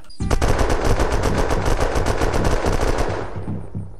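Rapid automatic gunfire in the online shooter Unturned, a loud continuous burst of closely spaced shots lasting about three seconds before fading out.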